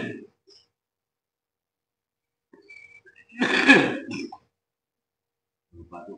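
One harsh, throaty burst comes partway through, a dry cough or throat clearing, with quiet stretches on either side and the faint edges of speech around it.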